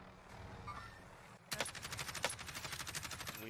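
Gunfire in the Warzone battle royale video game: a rapid burst of repeated shots following a sharp crack, steady and fairly loud over background game sound.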